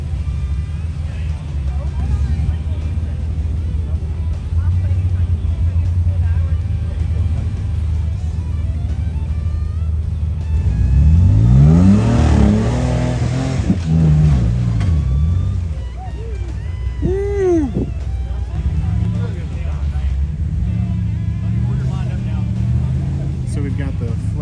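An off-road truck crawls up gnarly rocks, its engine droning steadily then revving hard in rising, straining surges before easing back, with voices of onlookers mixed in around it.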